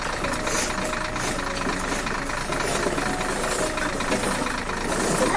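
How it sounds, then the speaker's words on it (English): An animated tractor and rice harvester run together in the field, their engines giving a steady, knocking, mid-pitched idle that stays close and continuous throughout. "Tractor and harvester work together to harvest,"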